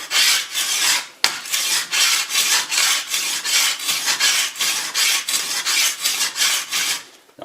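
A rusty sickle blade rubbed back and forth on a stone over a firm plasterboard base, a loud rasping scrape repeating in a steady rhythm of strokes after one brief pause near the start, close and uninterrupted by speech.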